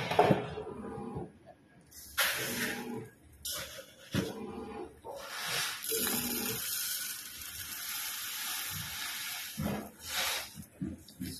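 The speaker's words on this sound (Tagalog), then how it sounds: "Ibabad natin sa tubig yung haris at saka yung Egyptian rice." Water poured from a tap over harees and Egyptian rice for soaking, intermittent splashing and running bursts of varying length, moderately close, with quiet gaps between pours.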